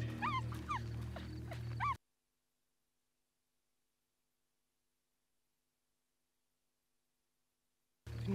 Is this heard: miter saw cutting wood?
no